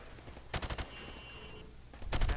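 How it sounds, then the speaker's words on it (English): Rifle fire at practice targets in Call of Duty, firing from the hip: a quick burst of several sharp shots, a pause with faint ambience, then another cluster of shots at the end. "shoot at the targets while firing from the hip"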